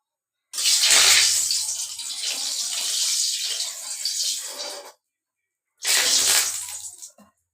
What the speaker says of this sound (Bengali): পানী পৰিছে অকণমান চিটাই আহিছে